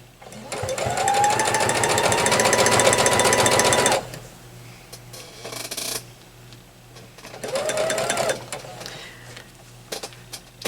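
A sewing machine chain-pieces quilt blocks for a disappearing four patch quilt, running in two rapid, steady mechanical bursts, a longer one then a shorter one, with quieter handling noises in between.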